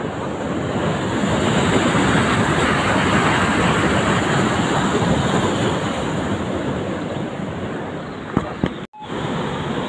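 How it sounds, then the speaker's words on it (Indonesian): Steady loud rush of river water at the Situ Cileunca rafting site near Bandung, a continuous broadband roar with wind buffeting and a few knocks near the end. "Dengeran nggak suara airnya?"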